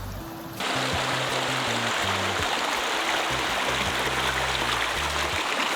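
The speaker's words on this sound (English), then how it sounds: "So we decided to just sit alongside this little stream here." A small mountain stream near Rishikesh flows steadily with a continuous broadband rush and trickle, close and fairly loud, with no one talking over it after a brief quieter moment at the start.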